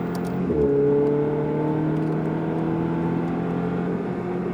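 A Ferrari on a track in Issoire accelerating hard, its engine note climbing into a loud, steady high-revving drone that stays close throughout with no speech.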